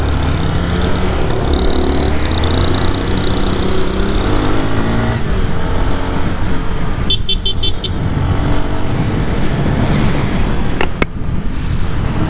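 A 250cc Honda CB Twister motorcycle engine roars steadily and loudly throughout, its pitch climbing and falling as it revs, with a brief horn-like toot near the end.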